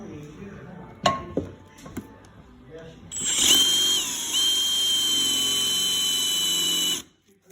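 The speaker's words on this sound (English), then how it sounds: "We're going to drill a hole right here in the middle of our other pipe" A power drill bores a hole into the middle of a metal pipe: a few scattered knocks and clatters come first, then a loud, steady, high-pitched whine runs for about four seconds and stops abruptly.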